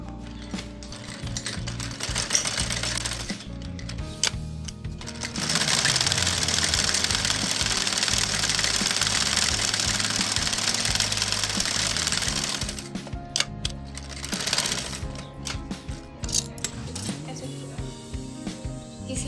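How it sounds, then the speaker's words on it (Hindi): A sewing machine stitches a kurti in long, steady runs of fast mechanical chatter, stopping briefly between seams and then starting again, loud and close. "अब हम यहाँ से लेके ऐसे शुरू करेंगे सिलाई"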